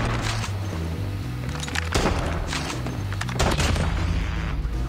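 Koshka sniper rifle shots fire in Call of Duty Mobile, several sharp loud cracks spaced irregularly over a steady game soundtrack, with no talk.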